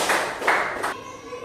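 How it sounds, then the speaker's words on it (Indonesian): Children clapping their hands together in a classroom, giving three short bursts of applause that stop abruptly, with no one talking over them. "tepuk tangan untuk kalian semua."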